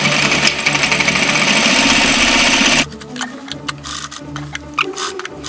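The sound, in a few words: sewing machine stitching petticoat fabric edge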